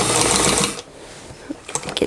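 A home sewing machine stitching a Butterick 6706 dress runs loud and close with a fast steady whir, then stops abruptly partway through, leaving quiet handling clicks and rustles.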